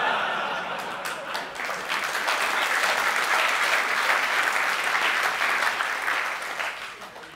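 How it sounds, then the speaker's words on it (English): An audience at a Laracon EU 2014 conference talk breaks into dense, sustained applause that swells, holds for several seconds and slowly tapers, with a few faint chuckles mixed in. "You really shouldn't applaud for that"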